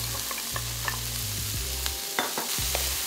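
Green peas stir-fried in a hot pan for a healthy vegan tomato-sauce baked rice, with a steady sizzle and a few scraping stirs of the spatula, close and fairly loud, no talking.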